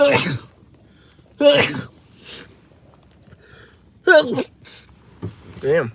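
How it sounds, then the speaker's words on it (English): Several loud, close sneezes from one person come in bursts separated by pauses, with a brief spoken word among them. "Sneezing up a storm here."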